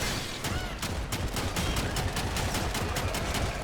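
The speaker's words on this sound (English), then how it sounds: "just hold down the trigger and it fires very rapidly" Kohmak secondary shotgun firing in Warframe as the trigger is held, a steady, rapid stream of closely spaced shots that keeps a constant loud level throughout, with no voices.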